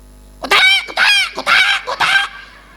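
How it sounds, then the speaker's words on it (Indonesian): A rooster calls in four loud, harsh honking bursts close by, each lasting about a third of a second with short gaps between, standing clear against a quiet background. "Itu ayam laki-laki. Kalau ayam perempuan beda lagi suaranya."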